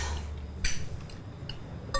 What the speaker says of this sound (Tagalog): Ingay ng pinggan.